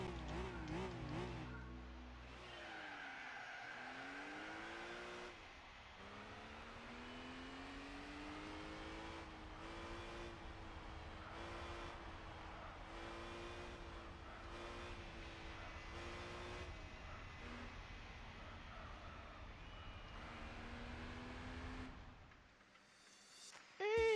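A race car in Gran Turismo 4 drones at high engine revs almost throughout, the pitch climbing and dropping with each gear change and corner, steady and fairly quiet, before cutting off near the end.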